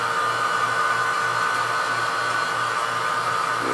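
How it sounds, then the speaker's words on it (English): A vacuum pump runs steadily during a vacuum test of carbon clay and iron oxide, giving a loud, continuous droning whine with a low pulsing hum underneath that holds unchanged throughout. "now we have our vacuum pump running"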